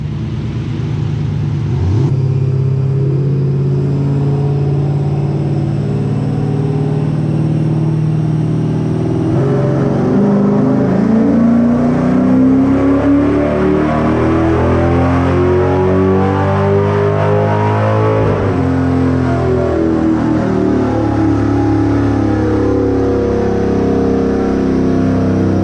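Tuned car engine pulling on a dyno, a loud, steady droning tone that climbs in pitch through the run, then drops back and settles into a sustained hum, with no talking.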